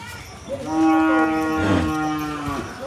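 A cow lets out a single long, loud moo that rises and holds before trailing off, heard close on a farm with low background noise and no speech.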